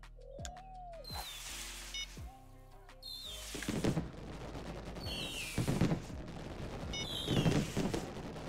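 Fireworks set off in the fishing game Fishing Planet during a Christmas-themed event, with whistling rockets rising and bursting in several loud crackling volleys in quick succession, and no talking.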